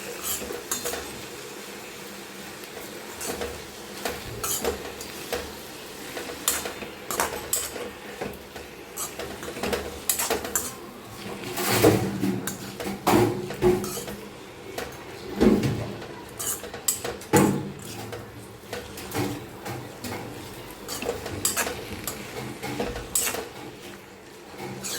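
Boiled tindora (ivy gourd) is gently stirred in a pan, with a metal spoon scraping and clinking against the pan in uneven bursts over a low sizzle.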